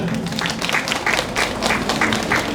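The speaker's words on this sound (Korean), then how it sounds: "박수 한번 쳐주십시오" Residents at a community briefing meeting on a subway station exit clap together, a short burst of loud, close applause with distinct individual hand claps.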